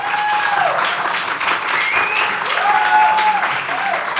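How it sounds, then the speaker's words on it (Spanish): Live audience at a Spanish-language podcast recording breaks into sustained applause, a dense steady wash of many hands clapping for several seconds, with a few whoops riding over it. "por favor, un aplauso."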